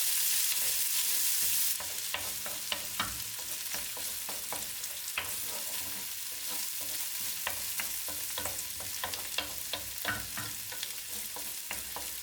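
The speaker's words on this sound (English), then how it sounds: "add the onions and saute those briefly as well" Onions and bacon sautéing in a pan for beef goulash, a continuous sizzle broken by frequent scraping and stirring clicks from a utensil, close and steady.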